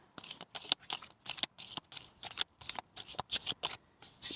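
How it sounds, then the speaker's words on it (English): A deck of cards shuffled by hand, a quick series of crisp riffling bursts in an uneven rhythm, close and clear with no talk. "I'm going to give this deck a little shuffle here."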